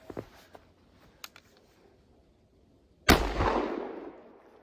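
Single sharp, loud rifle report from a 300 Blackout firing a 110-grain Barnes Tac-TX bullet over an H110 powder load, with a decaying outdoor echo trailing behind it after a few faint clicks.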